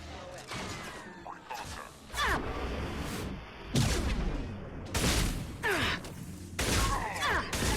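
Shotgun fire in the Mass Effect 2 video game, several loud booming blasts mixed with crashes and other combat effects, with a player talking over the action.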